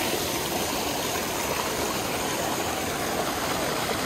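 Steady, dense rush of falling water filling the whole clip at a constant loud level, broadband and unbroken with no voices.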